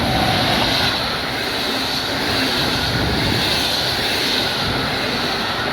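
An EU160 electric locomotive hauling a train through Szczecin Zdroje station, a loud, sustained broadband roar and rumble of the passing train close by, steady for several seconds.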